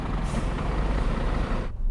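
A 44-ton truck launches hard in a drag race, its loud diesel engine a dense, sustained roar that holds steady for over a second before cutting off abruptly.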